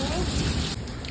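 Heavy rain of the first downpour of the rainy season pours steadily at close range, a dense continuous hiss with no pauses.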